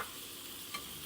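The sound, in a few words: paneer ghee roast sizzling in pan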